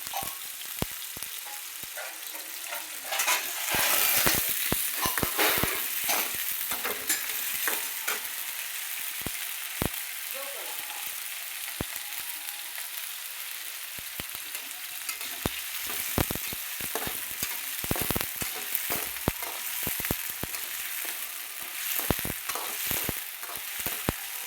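Uncooked potato and green chilies fry in oil with a loud, crackling sizzle that swells early on, followed by many sharp scraping stirs and clatters close by, and no one talks.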